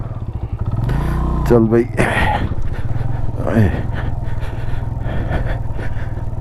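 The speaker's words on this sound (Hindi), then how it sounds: "मोटरसाइकिल को ब्रेक भी लगाई है, पहला गियर, फिर भी भागता जा रहा है नीचे की तरफ।" A motorcycle descends a steep, sandy slope in Chunda Valley near Skardu in first gear with the brakes on, its engine droning and straining close by while a rider speaks briefly over it.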